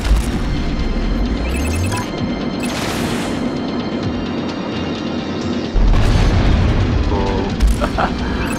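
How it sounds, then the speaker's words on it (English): A missile barrage in the space combat game Strike Suit Zero unleashes a dense, continuous roar of loud booms and blasts, with a heavy surge near the end. "There's like a missile barrage there."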